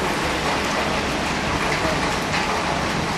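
Rain pours steadily in a town street of shopfronts during a windy storm, a dense, even hiss that stays loud and unbroken from start to finish.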